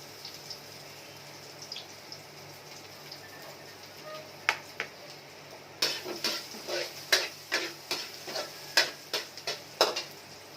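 Garlic going into a pan for chicken feet adobo in coconut milk, a quiet stretch followed by a run of sharp spoon-and-pan clacks and stirring over a light sizzle.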